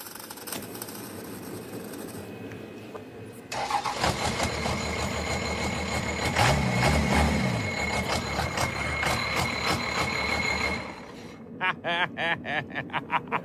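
Diesel-swapped Torino wagon drag car engine cranks and catches, then runs loud and rough with a heavy low rumble for several seconds before dropping back toward a lower idle, with clattering mechanical noise throughout.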